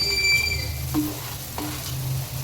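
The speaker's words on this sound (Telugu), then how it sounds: "అందులో ఇప్పుడు మనం కాకరకాయల ముక్కలు వేసుకుందాం అంటే బోడకాకరకాయల పీసెస్ వన్ కేజీ అట్లా ఉంటాయి" Pieces of spiny gourd (bodakakarakaya) frying in a pan for a curry, with a steady close sizzle and two brief scrapes of stirring; no talking.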